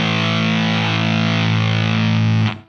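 An electric guitar sustains one thick, saturated note through a Seeker Lineage Supa Fuzz pedal, steady and loud for over two seconds before cutting off abruptly as the fuzz gates it.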